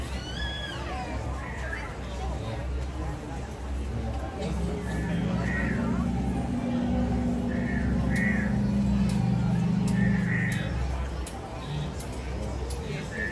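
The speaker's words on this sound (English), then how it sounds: "That sounds like birds to me." Birds call and chirp in short bursts at Disney's Animal Kingdom, near the Kilimanjaro Safaris queue, under steady crowd babble and nearby conversation.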